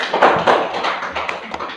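Schoolchildren in a third-grade classroom clap together in a brief round of applause, a close, dense patter of hand claps lasting under two seconds with no talking over it.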